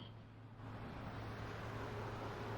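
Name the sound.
driving sound effect, car engine and road noise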